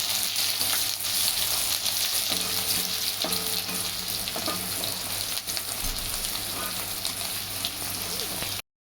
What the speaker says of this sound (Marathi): मिरची आणि कांदा मी एकसाथ टाकला आहे नरम होण्यासाठी म्हणून. आपण याला परतणार आहोत व्यवस्थित.